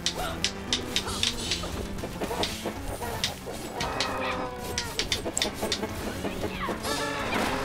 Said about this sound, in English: Mega ultra chicken.